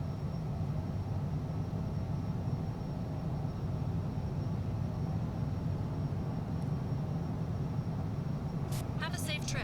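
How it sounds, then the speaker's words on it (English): Light aircraft throttling up and taking off from runway 36 in Microsoft Flight Simulator 2024, a steady droning engine roar with broadband rushing noise, even and continuous throughout, with someone speaking over it. "we're going to go ahead and throw our throttle down and take off in the air here"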